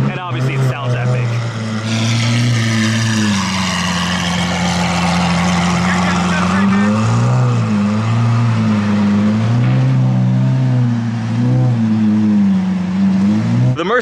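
A Lamborghini Aventador SVJ with a custom livery at a hypercar show: a loud, close V12 engine roar that holds steady and surges in pitch, filling the whole stretch, with no talk.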